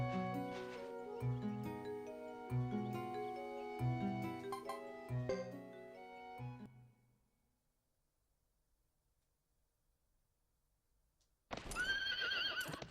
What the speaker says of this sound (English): Hugo can do the horse races too.